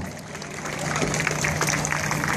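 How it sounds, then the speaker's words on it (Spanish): A rodeo crowd at a rider and ranch presentation applauds, a dense wash of clapping that swells midway and stays steady, heard over a low constant hum with faint voices mixed in. "échame el aplauso"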